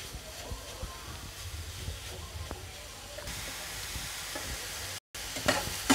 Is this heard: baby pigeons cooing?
no